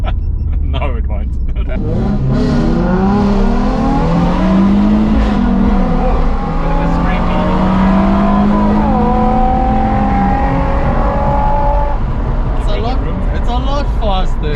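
A sports car with an aftermarket exhaust accelerates hard, its engine note climbing through several gears in rising sweeps, loud and close, with people talking over it.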